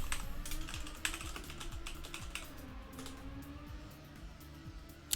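Quick, steady clicking of keys on a computer keyboard as a password goes in, close-up and fairly quiet, with a faint low hum underneath and no speech.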